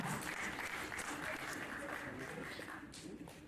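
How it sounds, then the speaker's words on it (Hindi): Audience applause greets a guest arriving on stage at an Odia film event, a steady dense wash of clapping from a crowd with some voices mixed in, sustained throughout and easing slightly at the end. "मिस्टर कौशिक दास जोरदार ताली से शासन स्वागत करें।"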